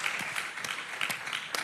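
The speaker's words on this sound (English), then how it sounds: "this is where we clap as Ugandans." Audience applause at a youth innovation hub event in Uganda, a short burst of scattered hand claps, moderately faint and somewhat distant.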